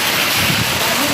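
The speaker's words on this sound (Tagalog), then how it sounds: "Lakas yung ulan, no?" Heavy rain pours down during a typhoon with strong wind, a dense, steady roar of hiss that fills the brief moment without a break.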